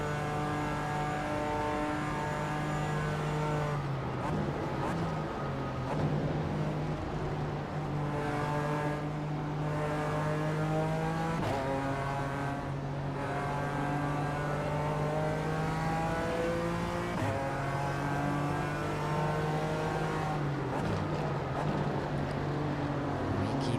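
BMW M Power race cars in the iRacing sim roar down the long Camel Straight; a loud, sustained engine drone holds a steady pitch with brief dips at gear shifts, heard alone without talk.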